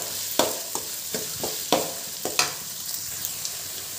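Carrots and beans stir-fry in hot oil for vegetable fried rice, a soft sizzle broken by sharp spatula scrapes and tosses at an uneven rhythm, close and fairly quiet with no talking.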